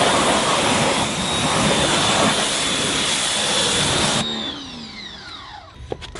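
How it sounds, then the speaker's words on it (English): A pressure washer blasts a loud, continuous hissing spray while rinsing a car's wheels and brake-dusty barrels, then cuts off abruptly, leaving the pump's whine winding down with a few small clicks. "So first let's do our power rinse."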